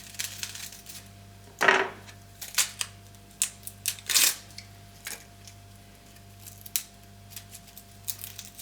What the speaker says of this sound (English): let's first of all cut the onion peels